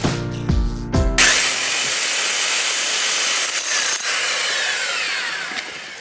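A water-cooled drill bores into a house wall to fit a damp-control system. After a few short tonal bursts, a loud, steady grinding hiss runs continuously to the end.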